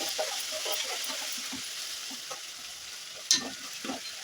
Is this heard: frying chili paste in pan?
yes